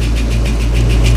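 A 1989 Ford Mustang 5.0 engine runs under the hood at a steady, loud idle: a deep rumble with a faint rhythmic ticking pulsing through it, with no talk.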